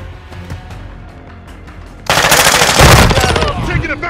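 Sudden burst of rapid automatic gunfire, loud and close, erupting after a quieter stretch of distant rumble and continuing in dense, crackling volleys to the end.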